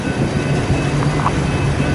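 A BNSF freight train heading southbound, its three-bay hoppers and flat cars loaded with wheels rolling past at Fremont, Nebraska, as a steady low rumble close by, with no talk over it.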